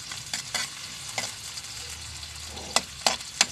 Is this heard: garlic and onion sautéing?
yes